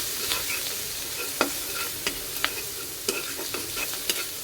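Turmeric and ground coriander fry with pointed gourd in a pan, a steady soft sizzle broken by sharp scraping clicks of a spatula stirring at irregular intervals, close and alone with no voices.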